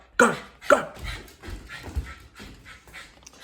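A dog whimpers and gives a few short, sharp barks and pants, close and loud at the start, then softer huffing sounds trail off over a few seconds.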